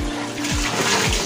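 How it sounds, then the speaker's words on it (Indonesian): Water running and splashing as raw chicken is rinsed, a steady close rush of flow with a low hum underneath. "terus kita bilas ya ayamnya"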